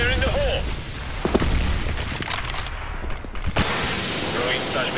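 Gunfire and a grenade blast in a Counter-Strike match crack through a busy, dense game mix, sharp bursts standing out amid continuous background noise and brief callouts.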